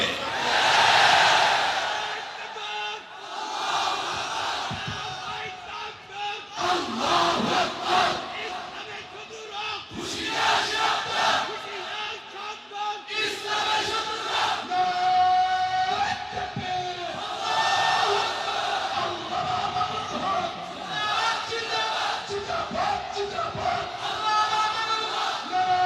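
A large rally crowd chants slogans in loud, surging waves with repeated call-and-response bursts, voices massed and shouting under reverberation.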